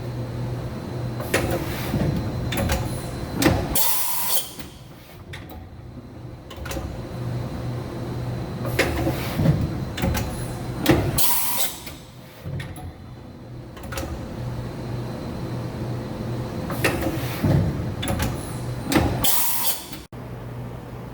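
Rear side of a 2013 Mazak HCN 4000-III horizontal machining center during a tool change: repeated mechanical clunks and pneumatic bursts at intervals over a steady machine hum, fairly close.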